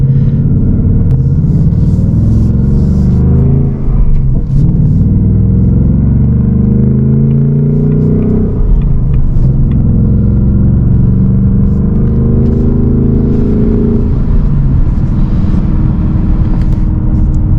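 A 2024 Ford Mustang GT, seventh generation, rumbles steadily from the cabin while driving, its engine droning loud and continuous with slight swells in pitch and brief dips as it pulls through gears.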